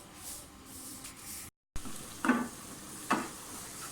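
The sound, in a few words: onion and ginger frying in hot oil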